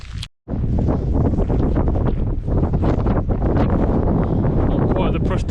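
Strong gusty wind buffets the microphone in a sheltered outdoor spot on a foggy mountain hike, a loud, continuous rumbling roar after a brief cut near the start, with a voice partly lost under it.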